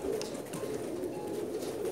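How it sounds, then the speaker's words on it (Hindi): Ferozpuri pigeons in Jeddah, Saudi Arabia, give soft, close cooing calls over a short stretch without talk. "कुछ स्पेशल कबूतर दिखा रहे हैं हम आपको"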